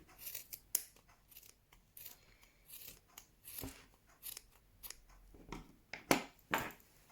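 Sharp scissors snip through the yarn end of a crocheted scarf, a quick series of close, crisp cuts spaced irregularly across the stretch with no talking.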